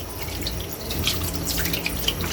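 Water poured into a wok holding cleaned mussels, a steady splashing trickle with faint bubbling and drips throughout, fairly close and uninterrupted by talk.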